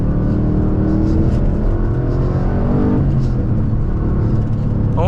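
A fifth-generation Chevrolet Camaro Z/28 engine pulls hard on a backroad, a loud, steady, close-up drone that climbs in pitch through one long acceleration, dips briefly near the middle, then builds again, with no talk over it.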